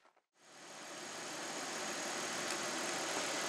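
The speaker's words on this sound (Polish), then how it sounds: "Zwróćcie uwagę, jak ten silnik pracuje." A BMW 520 E39 engine fires up after a brief click and settles into a steady, close idle, a dense even mechanical hum that holds for several seconds without any voices.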